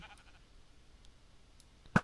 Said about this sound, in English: Creeper messing with my sheep.